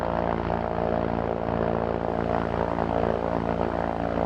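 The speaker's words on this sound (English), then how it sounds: "the Jabiru is very smooth, 6-cylinder" A smooth six-cylinder Jabiru engine drones steadily on a STOL CH 750 light sport kit aircraft, a loud, continuous close propeller hum with no voices over it.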